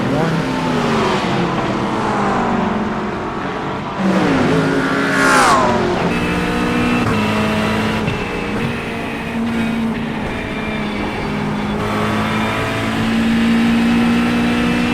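A GT3 race car in a racing video game at Mosport roars loudly and continuously, its engine rising and falling through gear changes with a sharp upward sweep mid-lap, while a voice talks over it throughout.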